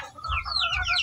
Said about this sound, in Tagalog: So malaking manok rin.